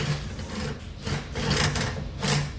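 Pears are peeled by hand in a home kitchen for canning, with repeated rasping scrapes of the peeler in short strokes, fairly close and with no talk over them.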